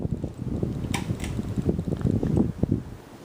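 A 52-inch Hampton Bay Sonoma ceiling fan running at medium speed with one blade slightly bent, giving a soft rhythmic whooshing pulse of air, close and steady with faint ticks, no talking.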